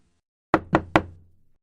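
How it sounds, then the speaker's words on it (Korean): Three sharp knocks on a wooden door in quick succession, close and loud, each ringing briefly before silence returns. "노크 소리가 들렸습니다."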